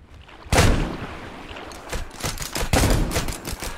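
Gunfire rings out in the Duckside video game, starting with a loud, close burst and continuing as a scattered run of shots over a rushing, windy background.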